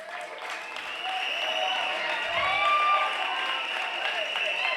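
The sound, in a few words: audience applause at a debate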